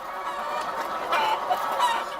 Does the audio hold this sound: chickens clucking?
yes